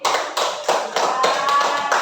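Classroom applause for a student: a group clapping in brisk, fairly even bursts, close and lively, about eight distinct pulses over two seconds.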